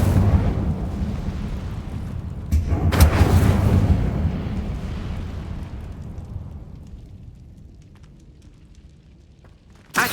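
An Incendio fire spell in Hogwarts Legacy bursts with a sudden booming whoosh, then rumbles and fades slowly over several seconds, ending with another sharp burst.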